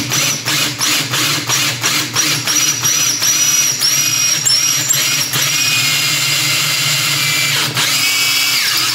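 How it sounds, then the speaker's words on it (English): A power drill with a 5/16 bit bores a hole in a metal female key, first in short rhythmic bursts, then in a long sustained whine that winds down near the end. The sound is loud and close. "Now I'm taking my 5/16, and I'll probably have to drill the hole bigger on the female key"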